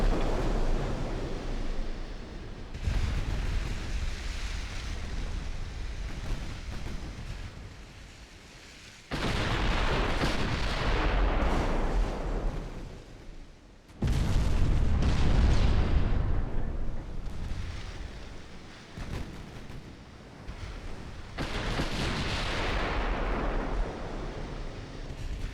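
Naval gunfire in a 1946-era warship game with heavy cruisers firing: repeated loud booming salvos, each a sudden broadband blast that rolls off into a long rumbling decay, several volleys in succession with no talk.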